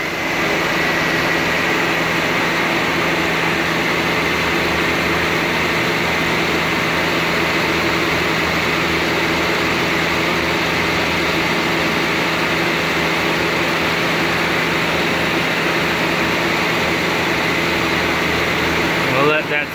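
A car's air conditioning compressor runs after kicking in, producing a continuous steady hum and whir with the engine idling beneath it, unchanging for the whole stretch.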